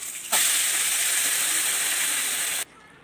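Boiled dal tipped into hot oil with asafoetida tempering for South Indian sambar, giving a loud, steady hiss of sizzling that starts abruptly and holds for about two seconds before cutting off.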